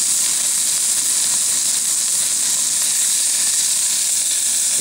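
Pork chops sizzle in a Dutch oven with a loud, continuous, dense hiss that holds steady throughout, with no voices.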